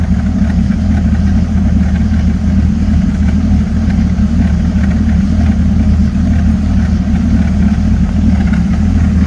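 A 1968 truck engine idles steadily and close, a deep continuous rumble with an even throb and no voices.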